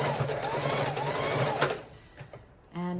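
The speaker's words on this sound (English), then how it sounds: "We're just going to sew that real quick so it stays in place." A sewing machine runs in quick bursts as it stitches a tag onto a fabric book cover, rapid rhythmic chatter close by, pausing briefly before starting up again.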